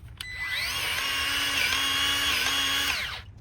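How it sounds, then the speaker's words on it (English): A Milwaukee M12 cordless grease gun pumps grease in a short burst of about three seconds, a high, steady motor whine with a slight pitch dip midway, fairly close and without speech. "I'm really impressed with the Milwaukee M12 grease gun."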